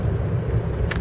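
A 1986 Mercedes-Benz 560SEL W126 with worn rear shocks cruises at about 40, a low steady engine and road rumble heard from inside the car.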